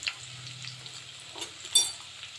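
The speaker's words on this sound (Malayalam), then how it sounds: "കരിയുന്നതിന് മുമ്പായി സവാള ഇട്ട് കൊടുക്കാം." Sliced onions sizzle in hot oil while cooking chicken biryani, a steady moderate crackle with a low hum underneath and a brief louder burst near the end.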